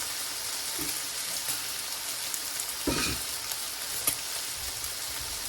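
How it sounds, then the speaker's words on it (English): Bacon frying in a pan, a loud continuous crackling sizzle close by, with a couple of brief scrapes or knocks from utensils partway through. "So now my bacon is frying."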